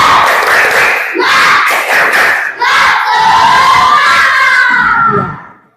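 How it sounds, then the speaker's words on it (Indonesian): Schoolchildren in a classroom chanting a clapping cheer together, loud and close, with rhythmic shouted group voices and a few claps, ending abruptly. "Ibu mau dengar dulu tepuk semangatnya. Ya, tepuk semangat."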